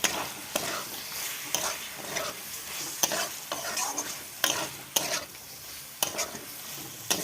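Vegetables stir-fried with salt in a pan: a steady sizzle with repeated sharp scraping strokes of a spatula, roughly once per second, close up, no voices.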